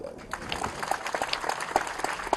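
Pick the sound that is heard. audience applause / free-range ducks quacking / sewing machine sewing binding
audience applause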